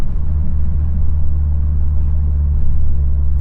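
A 2022 Subaru WRX (VB) fitted with a big turbo (EP4) idles after its first drive, giving a steady, close, loud low rumble that holds level throughout with no talking.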